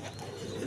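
Big high-flying pigeons, a breeding pair, cooing softly in a low murmuring burble that runs steadily through the short moment.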